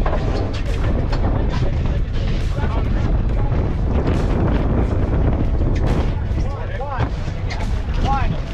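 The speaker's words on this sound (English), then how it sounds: "It is getting windy though, at least." Strong, steady wind of about 20 and gusty roars and buffets the microphone throughout on a swordfishing boat, with people talking underneath the rumble.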